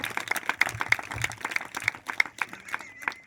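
A church congregation at a gathering claps hands loudly together, a steady run of sharp, close claps with a faint voice in the background.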